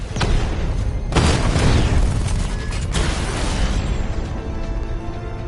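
A destroyed cauldron unit explodes in the video game Batman Arkham Knight: a loud booming blast with a sharp burst, followed by further bangs and a rumbling roar that slowly fades.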